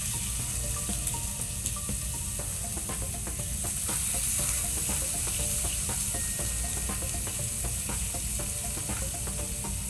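Octopus sizzles steadily on a hot grill, a loud continuous frying hiss with faint crackles throughout and no voices.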